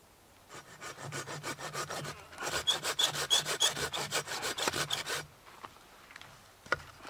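A hand saw cuts through a Swedish fire torch log to widen the top of its hole, making a quick run of rhythmic back-and-forth rasping strokes up close, then stopping, with a few faint knocks afterward.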